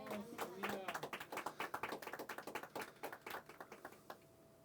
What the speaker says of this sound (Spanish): Amén, un aplauso.